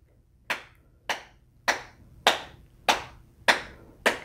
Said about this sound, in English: We're going to clap first.